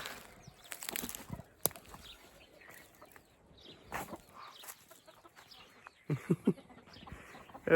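Hens cluck and squawk in scattered bursts, some sharp and agitated, fairly close against a quiet background.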